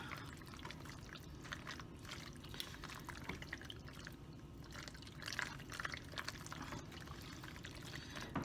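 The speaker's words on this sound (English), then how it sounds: "I'm going to go ahead and put 1/2 of it in, stir it up" Dry pasta for a ham and cheese casserole tipped into a casserole dish and stirred, a steady close rustle and scrape running throughout with a few louder clatters near the end.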